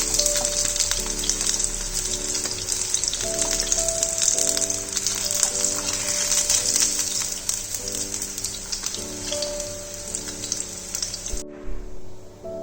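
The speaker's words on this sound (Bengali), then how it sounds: "আরেকটা সাইড গোল্ডেন ব্রাউন হওয়া পর্যন্ত ভালো করে আমি মাছগুলোকে ফ্রাই করে নেব" Bhetki fish pieces fry in hot oil with a steady, close sizzle and crackle, a constant hiss that stops near the end.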